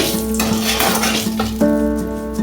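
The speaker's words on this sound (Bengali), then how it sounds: "দিয়ে 2 মিনিটের মতো একটু ভেজে নেব। এলাচের সেন্টটা ঘিয়ের মধ্যে ছাড়তে শুরু করবে।" Cardamom and bay leaf fry in ghee with a close, busy sizzle, while a spoon scrapes and clinks against the pan.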